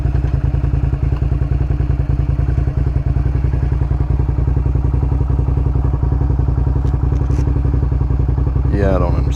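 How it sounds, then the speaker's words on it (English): An old sportbike motorcycle engine idles steadily and loudly with a rapid, even mechanical pulse and a slight rattle, running continuously up close before a brief rising squeal near the end. "Bike starts."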